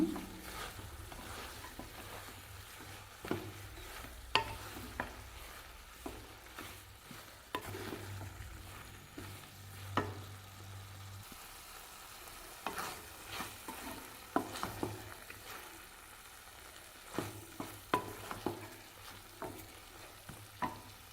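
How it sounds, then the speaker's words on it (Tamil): Spinach-like greens sautéing in a pan for a tamarind-optional chutney, with repeated scraping stirs and a soft steady frying sizzle, close and alone without voices. "கீரை நல்லா வதங்கணுங்க."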